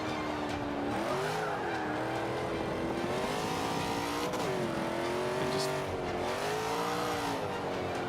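A racing car in Forza Motorsport 5 corners hard, its engine droning and rising and falling in pitch while the tires squeal continuously through the turns.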